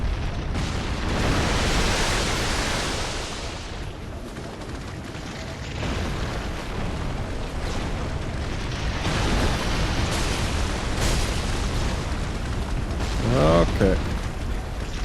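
Roaring blasts and crackling fire bursts from an Ember Crab attacking in Dark Souls 3 form a dense continuous wash of noise, with a louder surge early and a rising swoosh near the end.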